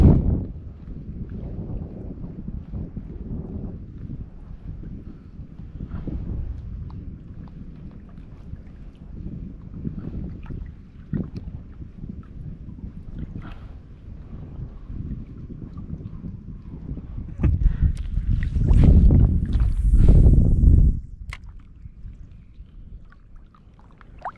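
Steady wind rushing over the microphone with low rumbling water current while fishing, growing stronger and gustier near the end.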